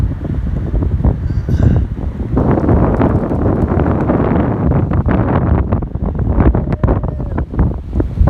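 Strong hurricane wind gusts buffet the microphone in a loud, continuous roar, with ocean waves crashing and surging underneath; no voices break through the steady rush.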